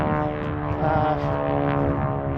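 A propeller airplane performing aerial tricks overhead drones loudly and steadily, its engine note holding without a break throughout.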